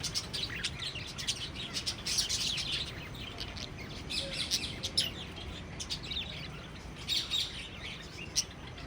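Birds and parrots chirp and tweet at the Warangal zoo park, with soft, scattered calls over a steady, faint outdoor background.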